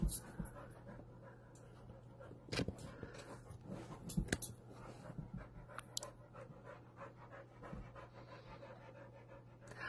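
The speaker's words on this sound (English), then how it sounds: "if you hear things in the background, it is my dog" A dog pants steadily and rhythmically in the background of an indoor card-making session, with occasional soft whimpers and chewing-like clicks over a constant low hum, fairly close but moderately quiet and with no speech.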